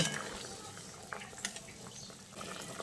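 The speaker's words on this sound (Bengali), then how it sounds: "ঝোল খুব ভালোভাবে ফুটে উঠেছে" Curry broth for an egg omelette and boiled potato dish bubbling in a pot, a steady close simmering hiss with small pops and bursts, no talking.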